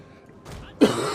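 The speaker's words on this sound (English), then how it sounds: "As I pause to keep coughing" A single harsh cough bursting out after a brief throaty rasp, close and loud, alone without speech.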